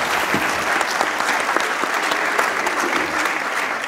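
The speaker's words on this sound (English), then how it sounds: "Please give them a round of applause." A crowd at a heart-and-stroke health dialogue evening gives its panelists a steady round of applause, dense, even clapping that holds throughout without a break.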